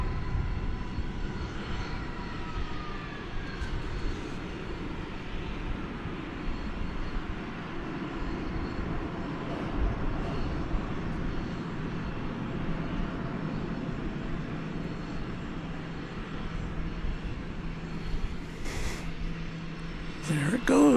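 A Qantas jet airliner takes off at DFW Airport, its engines giving a steady, broad roar that holds at one level throughout, with a faint whine rising briefly near the end.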